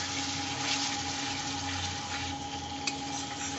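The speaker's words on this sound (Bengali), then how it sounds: "আর একটু জল দেবো, আরেকবার কষবো, তারপরে ফাইনাল জল দিয়ে দেবো।" Water poured into a fish do pyaza curry in the pot, a continuous close hissing, splashing flow with a faint steady hum beneath it.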